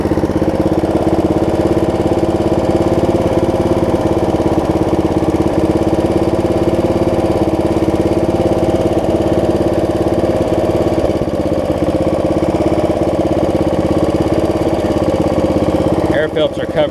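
A Snapper RER riding lawn mower engine runs steadily nearby, a loud continuous mid-pitched drone with a slight change near the end and no talk heard over it.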